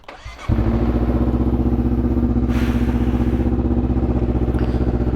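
A Honda CBR250RR motorcycle engine starts up and settles into a loud, steady, throbbing idle close by.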